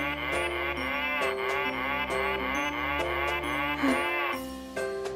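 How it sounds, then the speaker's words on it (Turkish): A toy plays a bright electronic tune with a synthetic cow moo woven in, steady and loud, with no voices. "O bir inek sesi Erdem."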